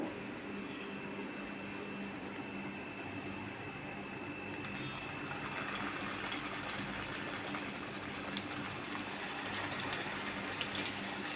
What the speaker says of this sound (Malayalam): ഇനി ഇത് എണ്ണയിലേക്ക് ഇട്ട് കൊടുക്കാം